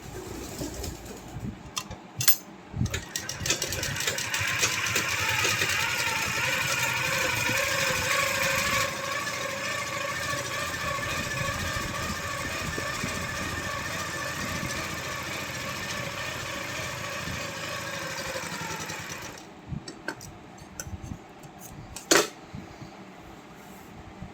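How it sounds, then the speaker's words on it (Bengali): A sewing machine stitches fabric in one long, steady run of motor hum and needle chatter at moderate volume, with scattered handling knocks before and after. "এর উপরে একটা চাপ সেলাই দিয়ে দেবো।"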